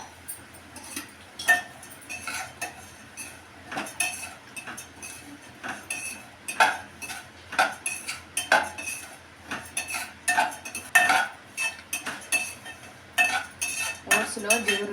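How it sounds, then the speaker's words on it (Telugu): Oats dry-roasting in a pan while being stirred with a metal spoon, quick clinks and scrapes in an irregular rhythm, close and moderately loud, no talk. "ఇప్పుడు ఓట్స్ను కూడా వేయించుకోవాలి"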